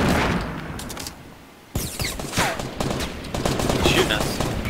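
Rapid bursts of Fortnite gunfire crackle in quick volleys, pausing briefly before another dense round of shots and impacts erupts, with players' voices faintly underneath.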